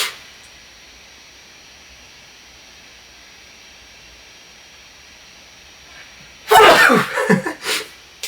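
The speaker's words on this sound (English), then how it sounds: "these little vocal, the vocal sneeze." A vocal sneeze sample in an electronic track, one sharp breathy burst near the end after a long stretch of steady faint hiss.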